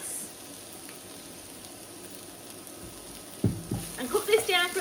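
Garlic, currants and pine nuts frying in a pan with a low steady sizzle, then louder clatter and bursts of hissing as the ingredients go in and are stirred near the end.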